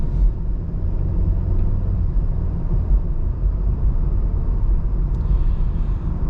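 A 2025 VW Jetta pulls away on the road, its steady low engine and road rumble filling the cabin at a constant level, with no voices.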